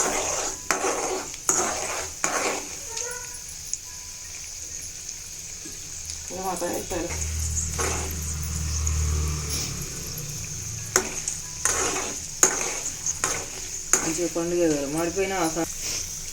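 Chana dal, urad dal and about six or seven dry red chillies frying in oil in a pan for a ripe red chilli chutney, with stirring and clinks of a utensil against the pan and a soft sizzle, under intermittent talk.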